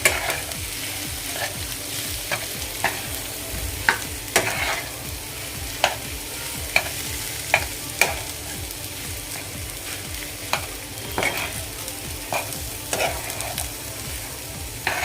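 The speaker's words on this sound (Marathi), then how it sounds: "भाजी ही सर्व मसाल्यांमध्ये व्यवस्थित मिक्स करून घेऊया" A spoon stirs a potato bhaji with spices in a pan, scraping and tapping at irregular intervals over a continuous soft sizzle, close and fairly quiet.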